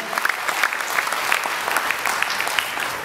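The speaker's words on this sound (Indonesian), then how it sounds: "Berikan tepuk tangan yang meriah buat itu." Lively applause from a church congregation rises quickly into brisk, fairly close clapping with scattered sharper claps, sustained for a few seconds.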